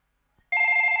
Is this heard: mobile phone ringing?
yes